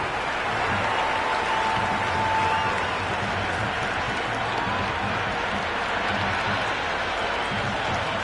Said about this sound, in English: The crowd love that one.